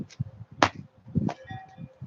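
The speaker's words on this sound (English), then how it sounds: "really bad landing sounds like this" A parkour jump ends in a loud, badly absorbed landing on the ground. A sharp thud is followed by a second heavy impact and faint scuffing, close and fairly quiet overall.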